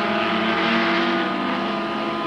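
Ford Falcon race car with a shredded tyre and damaged bodywork rumbling steadily into the pits at a motor race, a continuous loud engine drone with tonal whine, no voices.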